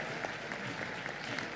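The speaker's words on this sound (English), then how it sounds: "I think we can welcome her with a hand clap" Applause welcoming the chief guest, Her Royal Highness the Nabagereka, at the 5th National Safe Motherhood Conference: a dense, steady wash of clapping from an audience, loud and continuous throughout.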